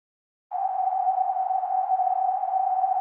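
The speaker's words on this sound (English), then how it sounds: "I applied a filter to the noise channel and dialed the resonance to its peak." A steady, hollow, whistling tone from an OP-1 Field synthesizer's noise channel, filtered with resonance at its peak, starts abruptly and holds at one pitch, alone and fairly loud.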